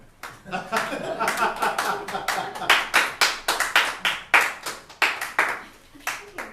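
A crowd claps in uneven, rapid bursts, with a few louder claps standing out and light murmuring and chuckles beneath.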